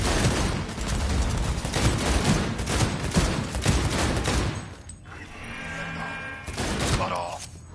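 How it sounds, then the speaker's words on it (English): Rapid bursts of gunfire in Cyberpunk 2077 on PS5 fill the first five seconds with dense, loud automatic shots, then give way to quieter mechanical whirring and scattered thumps, with a voice speaking over part of it. "The gun noises are brilliant."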